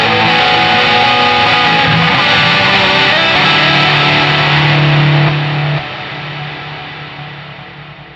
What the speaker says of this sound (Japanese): 簡単に言うと音が鳴り続けるような感じのリバーブでして、聞いてみてください。